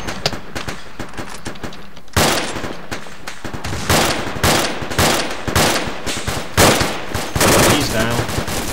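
Sustained machine gun fire rattles through a military video game battle set in Sangin, with dense, loud bursts and overlapping volleys of gunshots throughout.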